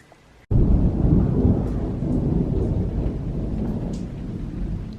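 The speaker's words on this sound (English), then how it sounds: "There's the thunder." Thunder rumbles through a thunderstorm, a loud, sustained low roll that starts abruptly and lingers for several seconds, with rain hissing faintly beneath it and no talking.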